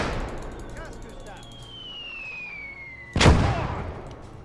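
Mortar fire in a wartime battle video game: a long descending whistle of an incoming round ends in a loud, close explosion, with background battle noise before it.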